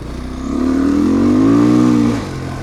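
A roughly 2012–2015 off-road motorcycle engine revs up close and loud, rising in pitch, holding, then dropping back to idle.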